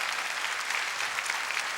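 A brief stretch of steady theatre audience clapping at the Théâtre Marigny, dense and even, with no voices rising above it.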